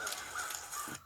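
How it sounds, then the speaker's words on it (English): Several crows caw in agitation in a forest, harsh repeated calls overlapping at close to middle distance across a short burst, with no talking. "So there's the crows freaking out."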